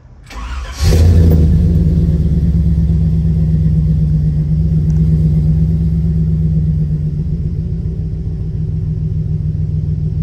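A 1949 Chevrolet 3100 pickup engine cranks briefly, catches with a loud burst and settles into a steady, throaty idle with slight revving, heard close up and alone.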